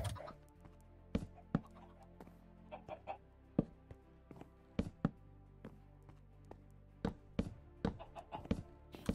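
Chickens in the video game Minecraft cluck in scattered, sharp bursts, a series of short, separate clucks at irregular intervals, fairly quiet and close, with no talking over them.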